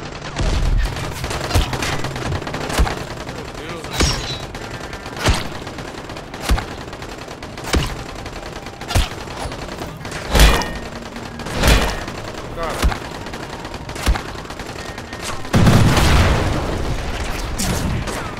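Gunfire in Dying Light: The Following during a train heist: loud shots or short bursts repeat about every second, with a denser burst near the end, over ongoing game sounds.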